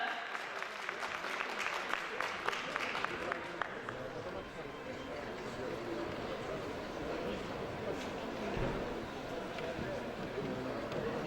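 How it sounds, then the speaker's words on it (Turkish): An audience applauds as a mayor is invited to the podium at a Tokat Days gathering, a sustained, fairly faint roll of many people clapping that stays even from start to finish. "alkışlarınızla kürsüye davet ediyorum efendim lütfen"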